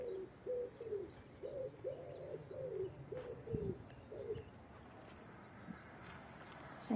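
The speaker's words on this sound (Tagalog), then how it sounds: "So, yung mga ibon, ang saya nila." Birds call outdoors, a dove's repeated soft coos running through most of the stretch with scattered higher chirps over a low ambient rumble.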